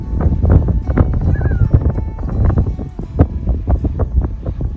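Strong wind buffets the microphone in loud, continuous low rumbling gusts, with no voices.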